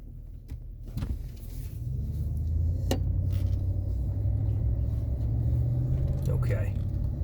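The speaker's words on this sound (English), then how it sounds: "I gotta do some what's called driving here." Car driving on a road, heard from inside as a low, steady rumble that builds and holds, with a few clicks and knocks and a person talking briefly.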